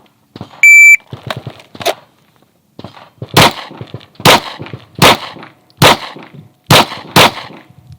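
A shot timer's sharp electronic beep, then a rapid string of loud pistol shots in a lateral bill drill: an early burst of quick cracks, a pause, then six evenly spaced, hard-hitting reports close by.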